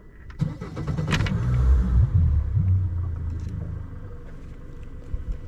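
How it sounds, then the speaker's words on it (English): A gas outboard motor on a fishing boat cranks, catches and settles into a steady low idle, loud and close, with a brief rising burst at the start before the even rumble holds on its own. "we have our gas motor running"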